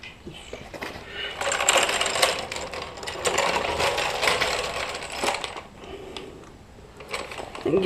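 Ratchet clicks and metallic mechanism sounds while bumper bolts come off a second-generation Dodge Ram during a fourth-gen bumper swap, with a steady run of close, busy tool noise and no talking.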